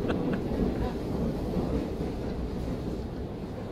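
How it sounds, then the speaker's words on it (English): Subway train ride inside the SOMA game: a steady low rumble of rolling carriage noise with rattling and wind, continuous and fairly loud throughout, with no voices. "Oh, we're on a subway, or a train."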